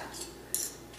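A metal spoon scoops a teaspoon of virgin coconut oil from a jar, giving two brief, light clinks close by with no voices.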